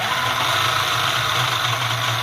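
A remote-controlled tracked tank's electric motor runs at full throttle, producing a steady, loud, unbroken whine and hum that holds at constant intensity throughout, close and alone.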